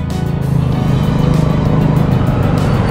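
Road traffic rumbles steadily and close by throughout, a continuous low engine and tyre drone with no clear pauses.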